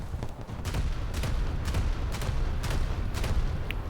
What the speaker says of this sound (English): Looks like I'm shooting the ship directly in front of the one I've targeted